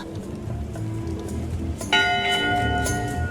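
A bell in Return to Monkey Island strikes once with a bright metallic clang and rings on with a sustained, shimmering tone over a low ambient game background.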